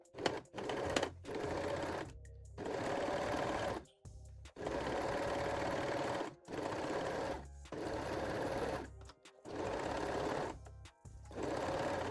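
A sewing machine stitches fold-over elastic for a sporty bra, running in several long, steady bursts separated by short pauses, close and loud with no talking.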